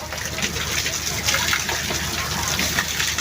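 Spring water gushes strongly over a bather, a dense, continuous rushing splash with steady loudness throughout, up close.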